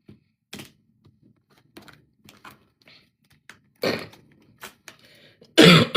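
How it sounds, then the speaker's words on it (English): A few deep, rough coughs, close and abrupt, separated by short pauses, with the loudest bursts near the end. "That's a heavy cough, right?"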